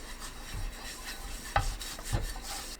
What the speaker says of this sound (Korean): 팬을 닦은 뒤 식용유를 발라주세요.